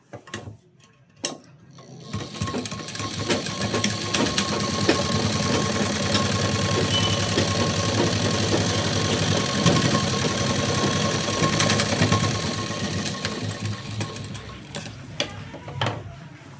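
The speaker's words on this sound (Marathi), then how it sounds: "इथे पहा, मी दोन्ही बाजूनी शिलाई देऊन घेतलेला आहे" A sewing machine stitches a blouse, whirring in a steady mechanical run with rapid rhythmic clatter that starts after a few clicks and winds down near the end.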